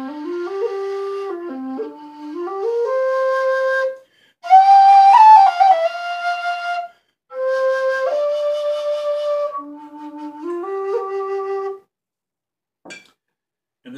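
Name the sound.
Irish whistle in C playing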